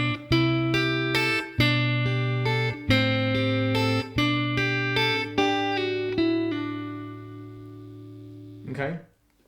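An acoustic guitar plays a section of a song, with rhythmic strummed and picked chords in a regular pattern, close and clear, ending on a sustained ringing chord and a brief scrape.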